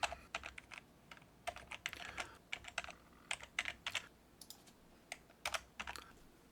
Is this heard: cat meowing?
no